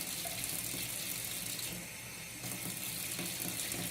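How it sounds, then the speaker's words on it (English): Water runs steadily from a tap into protein cake mix for a microwave cake, a continuous close hiss that dips briefly midway before resuming, with no talking. "how much water are you putting in there?"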